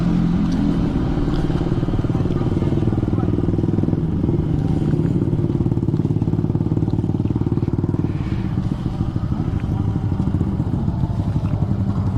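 Big-bike motorcycles ride through the Kaybiang Tunnel in Cavite, Philippines, a loud, steady engine roar reverberating off the tunnel walls for the whole stretch, shifting in tone partway through with some clatter.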